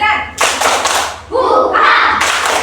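In an Indonesian classroom, children chant the rhythmic 'tepuk semangat belajar' clapping cheer, their voices shouting together over sharp, close hand claps and thumps.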